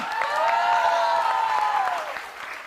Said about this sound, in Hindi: तालियां जोरों से बजाइए साहब